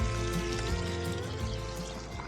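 Water from a fish pond filtration system spills back out through a waterfall, a steady close trickling and pouring flow over a low continuous pump hum.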